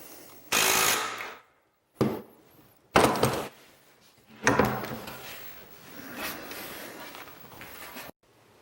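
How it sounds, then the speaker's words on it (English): A screw is driven into a cabinet face frame in a woodshop: a loud, close power driver whirs in several bursts, stopping and starting, with rough grinding bites and a longer final run. "Now I'm going to put this last screw in"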